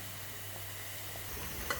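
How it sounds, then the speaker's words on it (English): Soft, steady sizzle of plantain slices frying in oil, an even quiet hiss with a light clink near the end; no speech. "my plantain is frying in the other side"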